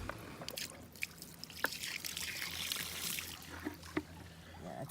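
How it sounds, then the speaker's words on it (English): Leftover water is dumped from a bucket onto a sailboat deck, splashing and trickling in uneven bursts with a few sharper splats. The sound is close and moderately loud against a faint background rumble. "we'll dump the rest of the water on over there where it's like icky"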